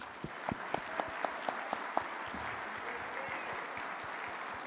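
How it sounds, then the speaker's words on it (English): Guests at a recruiting luncheon give a round of applause, a moderate, fairly distant patter with a few sharper individual claps standing out near the start. "So I'd like for you to give them a round of applause, please."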